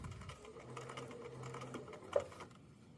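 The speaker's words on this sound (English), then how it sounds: "Continue sewing down." A sewing machine stitches a double-fold fabric hem, its needle producing a soft, rapid steady chatter with a faint hum, close and quiet with no voice present.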